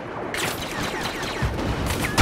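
Rapid blaster gunfire from Star Wars Battlefront, dense bursts of shots in a busy, noisy battle mix, loud and close with a sharper crack near the end.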